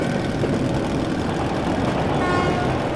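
Approaching train in the video game Metro: Last Light Redux, a loud, dense low rumble of heavy engine and rolling noise holding steady throughout, with a faint tonal whine above it.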